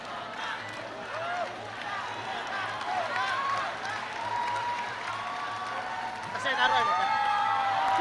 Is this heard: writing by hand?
no